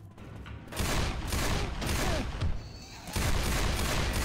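Gunfire in Left 4 Dead 2, loud rapid volleys of shots in dense bursts, one long stretch of continuous firing followed by a brief pause and another burst.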